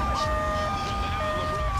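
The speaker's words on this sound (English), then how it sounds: "I need to shoot down that ambulance before it gets to the hospital." In the video game GTA 3, an ambulance's wailing electronic siren rises and falls in repeated sweeping tones over engine rumble and game noise.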